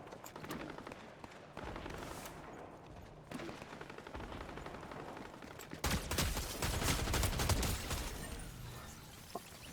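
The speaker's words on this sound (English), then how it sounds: "I wonder if this person is shooting someone is also a bot." Bursts of gunfire in a video game: scattered shots at first, then a denser rapid volley of fire near the end, moderately loud and close, with a faint voice now and then.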